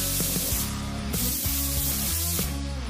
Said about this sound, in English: use compressed air to blow off the debris